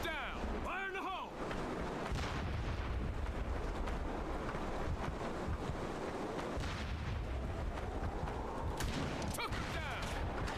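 A grenade goes off in the video game SOCOM Combined Assault, a loud blast rolling into sustained rumbling and gunfire-like bursts inside a dense, busy game mix, with voices talking over it.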